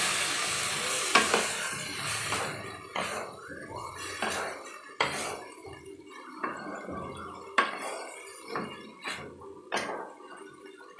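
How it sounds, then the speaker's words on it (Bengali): Mung dal and winter vegetables frying together in a pan, with a soft continuous sizzle broken by repeated scraping and clinking stirs of a utensil against the pan. "ডাল আর সমস্ত সবজিতে আমি একসাথে ভাজা ভাজা করে নেব"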